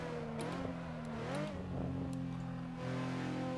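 A Nissan 370Z with a five-speed gearbox and no turbo revs in the Assetto Corsa racing game, its raspy engine tone rising and falling through shifts before settling into a steady drone.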